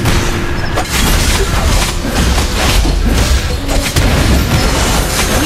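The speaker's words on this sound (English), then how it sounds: "Lord, our turret has been destroyed." A turret is destroyed in the video game Mobile Legends, amid a loud, dense barrage of booming explosions and impacts that continues throughout without a pause.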